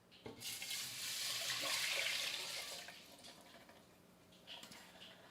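Water pours into a pan holding elderberries, a close hissing splash that swells for about two seconds, tapers off, then gives a few faint trickles at the end.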